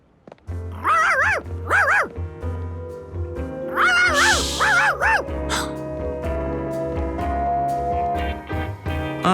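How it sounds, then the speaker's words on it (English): A cartoon dog barks in two bursts of loud, rhythmic yaps, with a clatter in between and music underneath. "A barking Charkie was even worse than a puddle"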